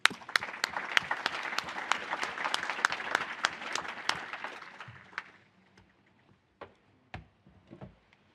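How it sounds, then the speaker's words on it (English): An audience at a neuroimaging conference (OHBM 2022) applauds after a talk; crisp, fairly close claps run for about five seconds, then fade to a few scattered single claps. "Let's give another round of applause."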